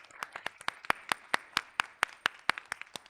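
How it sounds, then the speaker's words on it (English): Scattered applause at a Women's History Month leadership session, a small audience clapping in uneven, distinct claps that stay moderately close and fairly quiet throughout. "Another round of applause."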